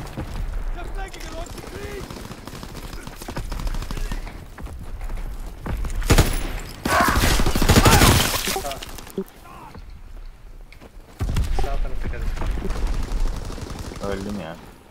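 Gunfire in Call of Duty WW2 hardcore team deathmatch: dense bursts of automatic fire and booming shots, loud and sustained, with players talking over the action.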